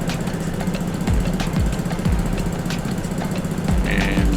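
A Vespa motorcycle engine running during an emission inspection at a vehicle registration center, a steady low putter with rhythmic thumping pulses about every half second, fairly close, with no talk over it.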